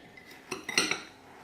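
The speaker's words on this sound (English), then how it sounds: "Now we give this a good mix" A utensil stirs a dessert mixture with nutmeg in a mixing bowl, making a few soft scraping clinks of metal against the dish close up, clustered within about half a second and otherwise quiet.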